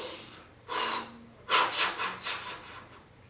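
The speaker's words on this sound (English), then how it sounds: "You take a deep breath, and at the end of the breath, you do the locomotive." Locomotive breathing exercise: a deep inhale followed by a run of forceful, rhythmic exhaled puffs, four or five quick huffs close to the microphone, with no speech.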